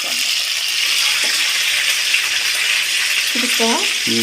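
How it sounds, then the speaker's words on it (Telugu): Green chillies and onion frying in a pan, with curry leaves going in, give a steady, loud broadband sizzle throughout, and a voice speaks briefly near the end. "పచ్చిమిర్చి ఎర్రగడ్డ దొరగొట్టిన దాకా వేయించుకున్నాం ఈ మొత్తం దొరగొట్టిన తర్వాత కరివేపాకు వేసేద్దాం"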